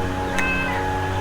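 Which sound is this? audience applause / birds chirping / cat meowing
cat meowing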